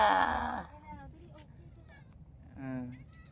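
Cats meow for food near a fishing spot at Raysut in Salalah, Oman, with a loud voice first, then several short, soft meows and a clearer, nearer meow toward the end.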